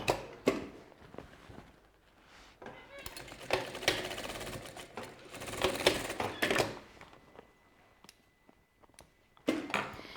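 A sewing machine stitches a homemade backpack in short bursts of rapid mechanical chatter, separated by pauses and handling noises.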